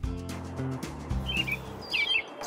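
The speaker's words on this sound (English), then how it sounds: "Do you hear that? That's the sound of a robin." A robin sings in a backyard setting, with a few brief high chirps and calls standing out over a steady low hum and background noise.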